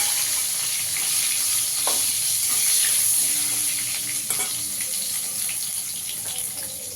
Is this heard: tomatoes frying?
yes